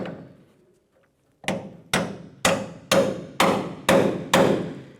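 Seven sharp hammer taps on a Torx bit seated in a painted tailgate hinge screw of a Ford Ranger, evenly spaced about half a second apart after a brief pause, each ringing and decaying quickly, close and loud.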